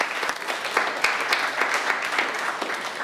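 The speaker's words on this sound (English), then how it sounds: "So a round of applause to both of them there." Steady applause from an audience at a business marketing awards event, honouring highly commended entries; dense continuous clapping at even loudness for about three seconds with no speech over it.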